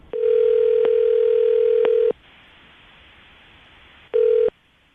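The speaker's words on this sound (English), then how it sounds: "Let's see if we can call him back again and see if he'll answer." A telephone ringback tone purrs loud and close for about two seconds, stops, then starts a second ring after a pause, with no voices.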